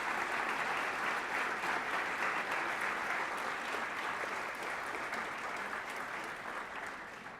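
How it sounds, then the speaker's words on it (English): Sustained applause from an audience at an oratorical contest, honoring the judges; steady dense clapping fills the whole stretch, full and even before tapering slightly at the end. "Please, one more round of applause for my fabulous judges."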